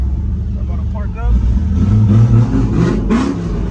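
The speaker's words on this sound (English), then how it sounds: "Man, this truck is fucking loud." Loud pickup truck engine rumbling and revving while parking, with passengers riding in the back; a deep, steady roar that swells midway through.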